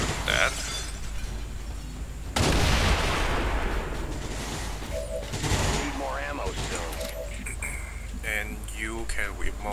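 Gunfire in XCOM 2: a loud burst of shots with heavy, noisy blast tails from weapons fire, alongside game effects and someone talking over it.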